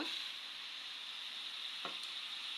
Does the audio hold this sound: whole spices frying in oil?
yes